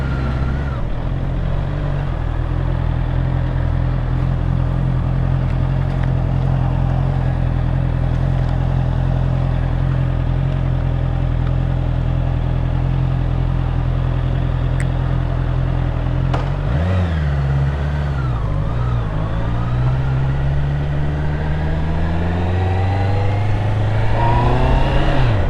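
Honda CBR650 650cc motorcycle riding onto an expressway from Clark toward Subic: a loud continuous engine drone with wind roar, pitch holding steady, then dipping and climbing again as it shifts and accelerates.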